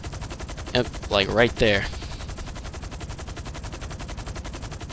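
Rapid automatic gunfire from infantry during a helicopter fight at an airport in GTA V Online, a steady rattling burst repeating throughout at moderate loudness, with someone briefly talking over it.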